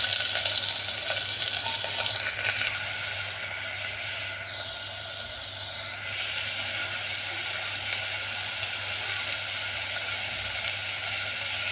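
Chopped capsicum sautéing in a pan for a green pea pulao, giving a steady close sizzle with a few stirring scrapes early on.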